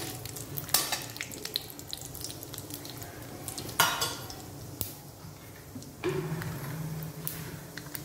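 Vermicelli frying in ghee in a pan, a soft steady sizzle under occasional clinks and scrapes of a utensil, with a few sharper stirring bursts, quiet and close.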